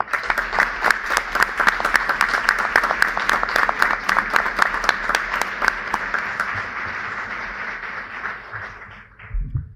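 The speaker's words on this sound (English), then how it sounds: "So I just want to take a moment to acknowledge, recognize, and applaud the families of the honorees tonight" Audience at a school district board of education meeting applauds the honorees' families, a loud, close burst of clapping that builds, holds for several seconds, then thins out and fades to a few last claps.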